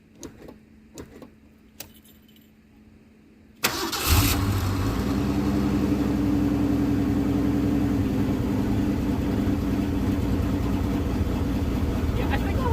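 A carbureted 1981 Ford Mustang engine cranks and fires after a few faint clicks, then settles into a loud, steady cold idle that runs unbroken to the end.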